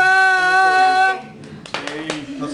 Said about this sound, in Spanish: Gracias por los aplausos. Dale un aplauso.